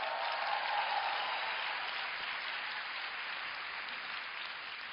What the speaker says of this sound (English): I don't need your applause.